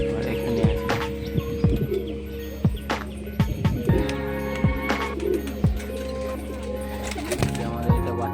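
Pigeons at a backyard loft coo repeatedly in soft, low, overlapping calls while a person talks nearby.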